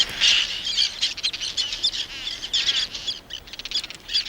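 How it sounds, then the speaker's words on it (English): Seabirds call over a tidal lagoon, with many chirping, squawking voices overlapping in a steady, busy chorus at moderate distance. "These seabirds time their breeding cycle to coincide with the easy prey washed into the lagoon"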